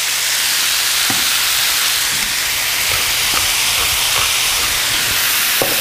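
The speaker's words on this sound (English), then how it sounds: "Add the Brussels sprouts. Toss those too." Brussels sprouts tossed in a hot skillet give off a steady, loud sizzle and hiss that runs throughout, with a few faint clicks and clatters of the sprouts shifting in the pan.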